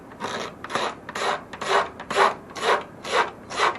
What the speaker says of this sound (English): might as well take advantage and scrape some of that off too